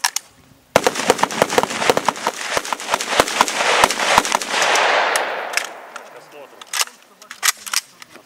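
Gunfire at a military shooting training exercise: rapid sharp shots in bursts and single reports, loud and close, with a noisy stretch midway and a voice shouting a command.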